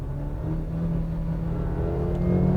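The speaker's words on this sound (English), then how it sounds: "Downshifts pretty well. Holds the gears, holds the revs" A 2020 Cadillac CT5 engine hums and rises steadily in pitch as it revs on a paddle-shift downshift, a continuous close mechanical drone with no talking.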